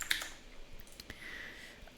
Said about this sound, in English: So I'm just typing in this sort of test copy, hero text.